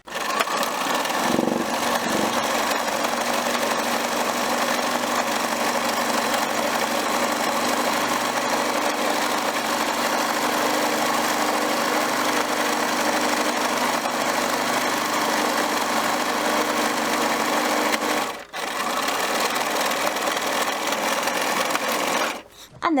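A sewing machine zigzag-stitches along fabric edges to seal them against fraying, running in one long continuous whir close up, with a brief pause near the end.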